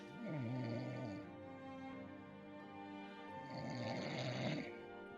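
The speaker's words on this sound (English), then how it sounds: "Who's snoring?" A person snores in two long, rumbling breaths, the first a drawn-out wavering snore and the second rougher and louder, picked up moderately close over a faint background.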